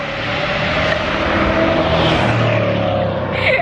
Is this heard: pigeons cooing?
no